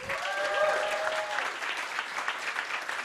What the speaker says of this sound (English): Can we get a round of applause for all the nominees?